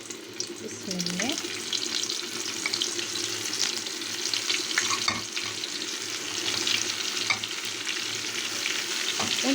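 Catfish pieces frying in hot oil in a home kitchen, a steady moderate sizzle and crackle that runs throughout, with a few brief utensil clinks over it.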